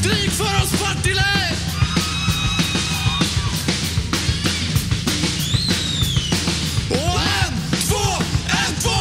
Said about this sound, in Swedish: Skrik för oss Partille!